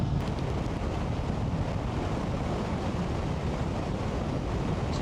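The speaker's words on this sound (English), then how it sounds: "Serious crosswinds today." Strong crosswind blowing over a BMW F900GS motorcycle on the move, a loud, constant roar of wind buffeting the microphone for the whole stretch.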